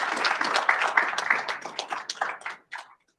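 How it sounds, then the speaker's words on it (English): Applause from a conference audience after a panel session. Scattered clapping that starts moderately full, thins into separate claps and then dies away to silence. "Another round of applause, please"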